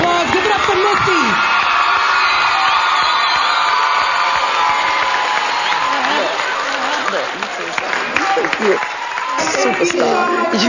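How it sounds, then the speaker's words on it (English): A crowd at a music competition show applauds and cheers loudly for a performer, with whoops and shouts in a continuous roar while people talk over it. "Give Missy a big round of applause."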